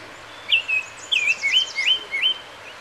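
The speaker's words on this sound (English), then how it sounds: "there's my buddy the oriole" A Baltimore oriole sings in the Adirondack Mountains of New York State, near fields. It gives a clear series of short, bright, slurred whistled phrases, fairly close and alone over a quiet background.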